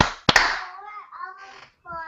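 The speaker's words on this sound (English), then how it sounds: "let's do a clap" A single sharp hand clap cracks loudly and close, marking sync for a podcast recording, and speech follows it.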